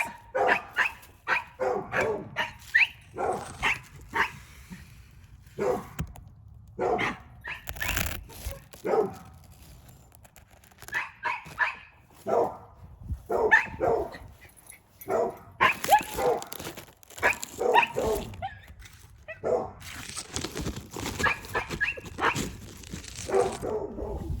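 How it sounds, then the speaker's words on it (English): Several loud dogs bark repeatedly in irregular bursts with short gaps, some yips and whimpers mixed in, close by and dominating throughout with no talking. "We have some very loud dogs."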